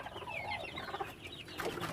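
Free-range village chickens in a coop cluck and chatter steadily at a modest distance, a dense, fairly quiet flock murmur with no one speaking.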